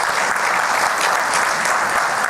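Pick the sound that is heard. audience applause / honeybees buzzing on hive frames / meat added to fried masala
audience applause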